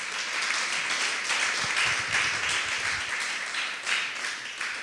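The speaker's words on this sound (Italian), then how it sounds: "qualcuno può farlo un bel applauso al Signore" A church congregation applauds during a sermon. The clapping is steady and sustained from many hands, moderately loud and continuous throughout.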